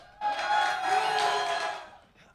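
A crowd cheers and whoops at a live VR esports tournament semi-final in Amsterdam, a loud, sustained roar swelling right after a brief lead-in and then fading away toward the end.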